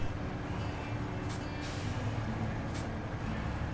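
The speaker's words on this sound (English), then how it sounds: "Hear the air brakes on the dairy go." Two sharp hissing bursts of air brakes release over the low rumble of a truck engine in SnowRunner, a little more than a second apart.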